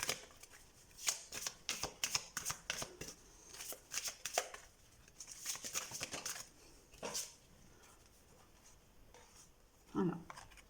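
Tarot cards are shuffled close up in quick bursts of crisp riffling and slapping, pausing briefly between handfuls, with a soft voice near the end.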